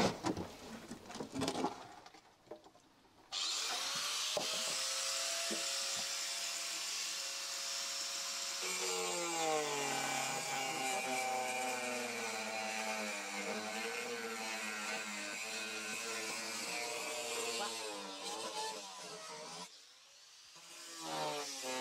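Power wood saw cutting timber while a cattle shed is built, a loud steady whining drone running nearly nonstop with pitch shifts as the blade bites, after a few seconds of sharp clattering at the start.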